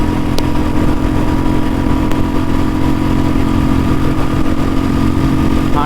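A Royal Enfield Bullet 350 motorcycle with a five-speed gearbox runs steadily at speed in fifth gear, its loud thumping engine drone continuous and close throughout.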